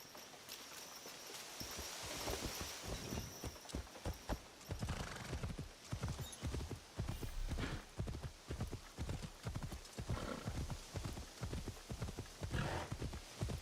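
Rhythmic clip-clop of horse hooves trotting steadily and close in the video game Assassin's Creed Shadows, continuous throughout, with a faint whinny early on.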